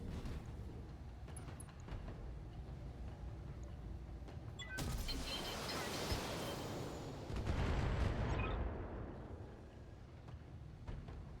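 Weapons fire in the BattleTech mech combat game: a sustained, roaring barrage of booming shots and explosions swells for several seconds over a steady rumble, loud and dense, with no speech.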